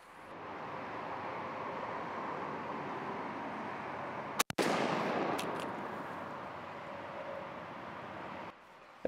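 One sharp report from a Winchester SXP pump shotgun firing a light 9-shot Rogue load cracks out midway through steady outdoor wind noise, with faint follow-up clicks after it.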